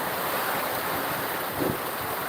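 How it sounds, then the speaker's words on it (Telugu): Heavy rain falling steadily at one level with some wind in Velichala, making a dense, unbroken hiss that fills the whole stretch at moderate loudness, with a brief gust near the end. "వర్షం అయితే ప్రస్తుతానికైతే వర్షం అయితే నిలకడగానే పడుతుంది ఒకే స్థాయిలో"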